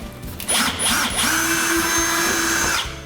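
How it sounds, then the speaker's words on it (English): A power drill bores a pilot hole into a bathroom wall for a wall anchor, spinning up loudly near the mic and holding a steady whining drone for about two and a half seconds before stopping. "we're gonna use our drill bit to set our anchor"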